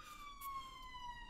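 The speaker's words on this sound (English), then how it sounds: "there's a police car going past." Police car siren passing outside an apartment, a single drawn-out wail that slides slowly downward in pitch, faint and distant with background hum.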